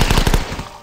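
Machine gun fire from The Last Stand video game, a rapid burst of about six loud close shots fading into a short ringing tail.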